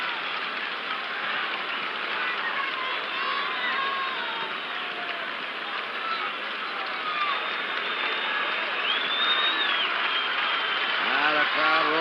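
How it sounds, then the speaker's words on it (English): Stadium crowd roaring at the 1975 World Series Game 7 between the Red Sox and Cincinnati Reds in the ninth inning, a steady broad roar sustained throughout with a broadcast announcer's voice over it. "Now the crowd roaring."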